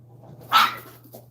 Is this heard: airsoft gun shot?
no